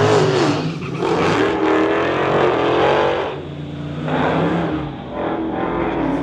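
A 2015 Dodge Challenger and a Mustang drag racing on a street-legal strip, loud sustained engine roar rising and shifting, then easing slightly before surging again.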